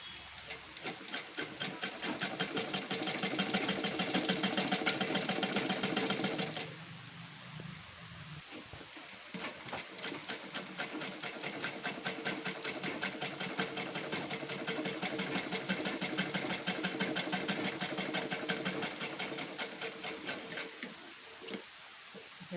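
A sewing machine topstitching fabric: a close, rapid, steady mechanical whirr that stops briefly for a couple of seconds, then resumes for a long run and ends with a few short bursts.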